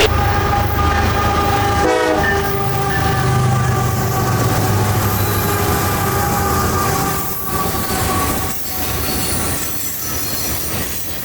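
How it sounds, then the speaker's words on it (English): CSX southbound grain train G289 rolls past along the Chattanooga Subdivision with a loud, close horn blast early on, then sustained wheel squeal and rumbling, clattering railcars for the rest of the passage. "Coming south now after having met the opposing I-26 in the siding at Graysville is southbound G289, an oddball grain train"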